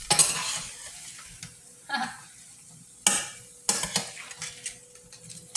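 Food frying in a home kitchen pan is stirred with a utensil: soft sizzling runs throughout, broken by several sharp scrapes and clinks of metal at irregular intervals, close by.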